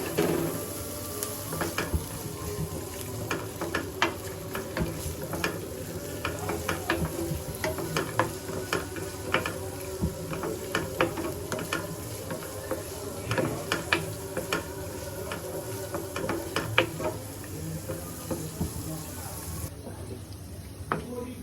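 Raisins and nuts frying in a pan for Eid nawabi semai, with steady sizzling and frequent clicks and scrapes of stirring throughout, close and moderately loud.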